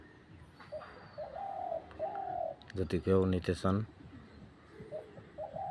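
A bird gives several short cooing calls, close and clear, with someone briefly speaking between them.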